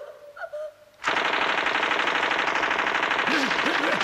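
Sudden sustained automatic gunfire from a gun in the film Meet the Feebles bursts in after a quiet moment and continues as a loud, rapid, unbroken rattle. A voice calls out briefly underneath.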